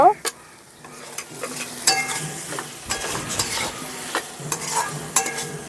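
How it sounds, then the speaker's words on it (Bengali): Fried potatoes are turned into a sizzling spice masala in a pan for an egg fritter curry. A spoon scrapes and clinks repeatedly against the pan over a crackling fry, and no one speaks. "এখন এর মধ্যে দিয়ে দিচ্ছি ভেজে রাখা আলুগুলো দিয়েও একটু মশলাটা কষিয়ে নেব।"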